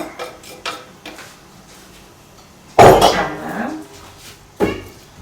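A whole onion is stirred into boiling pickling brine in a pot for beets, giving a loud metallic clatter of spoon against the pot, followed by a lighter clink and small ticks before it.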